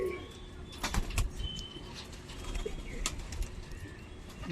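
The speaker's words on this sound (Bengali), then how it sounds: "এই একটা মাদা পায়রা দেখুন, এই পায়রাটা দেখুন" A female pigeon cooing among birds offered for sale, soft low coos with a few brief chirps and wing sounds over a steady background hiss, moderately faint, with no talking.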